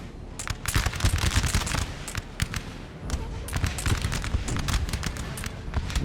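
Musket volleys and artillery fire crackle in Napoleon: Total War as Prussian lines shoot at French cavalry, a dense stream of sharp, overlapping shots over a steady battle rumble throughout.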